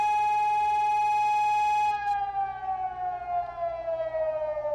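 Emergency alert system alarm: a loud, steady harmonic tone that after about two seconds begins a slow downward glide like a winding-down siren, continuous and alone throughout.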